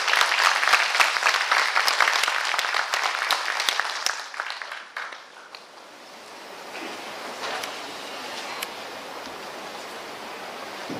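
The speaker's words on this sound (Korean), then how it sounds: "군수님을 큰 박수로 환영해 주시기 바랍니다." An audience claps to welcome the Yeongwol county governor at a briefing in a culture and arts hall. The applause is loud and steady for about four seconds, then fades into a softer hiss of room noise.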